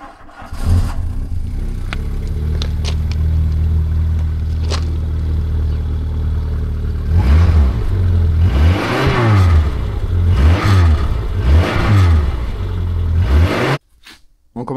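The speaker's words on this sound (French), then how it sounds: "Je vais vous faire écouter le bruit du démarrage à froid" A car with a rusted exhaust muffler cold-starts, turning over and settling into a rough, loud idle, then revs repeatedly in several surges before cutting off abruptly.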